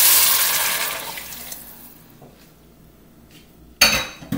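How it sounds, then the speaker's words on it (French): Four cups of water poured into a pot of softened vegetables for minestrone soup, a rushing splash that tapers off, then a short metallic clank from the pot near the end. "on va ajouter 4 tasses d'eau."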